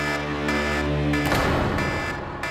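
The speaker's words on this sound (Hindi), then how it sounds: "ये अलार्म सुन रहे हो ना" A steady electronic alarm tone with strong harmonic bands sounds loud and continuous for the first half, then gives way to a noisy, broadband wash that keeps going to the end.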